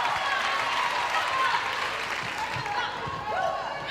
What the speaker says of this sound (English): Nice polite round of applause from the crowd there.